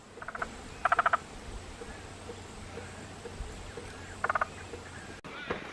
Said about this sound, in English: Interesting noise the frogs make.